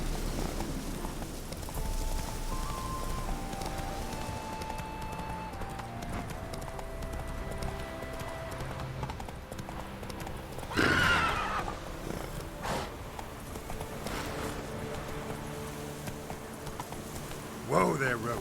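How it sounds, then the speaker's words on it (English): A horse in The Witcher 3 game gallops with rapid, steady hoofbeats over the terrain, joined by a sharp neigh midway and another near the end, with faint buzzing in the background. "Whoa there, Roach"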